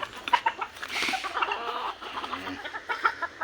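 Backyard chickens cluck and chatter close by as they are fed, short soft clucks and a few sharper calls overlapping in an irregular, busy stream amid light scratching movement.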